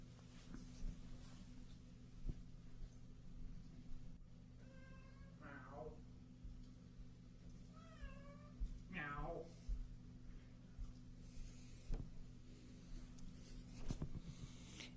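A cat named Nico lets out two separate meows a few seconds apart, faint against a steady low electrical hum, with small taps and rustles around them.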